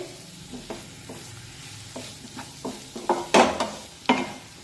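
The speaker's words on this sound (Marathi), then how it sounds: "आता साखर सुद्धा आपल्याला यामध्ये अगदी व्यवस्थित मिक्स करून घ्यायची" Sugar being stirred into a potato fasting curry in a pan, a spoon scraping in irregular taps and swishes with a soft sizzle beneath, growing louder toward the end.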